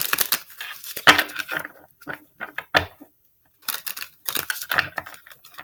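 Close-up papery riffling and flicking of cards being shuffled, two bursts of quick crackly snaps separated by a brief pause, with a few sharper clicks.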